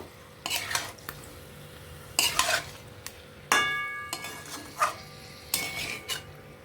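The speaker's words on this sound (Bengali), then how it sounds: "দিয়ে ভালো করে নাড়াচাড়া করব" Chicken chaap being stirred in a pan: several loud, close scrapes and clanks of a utensil against the metal come in irregular bursts over a soft, steady sizzle.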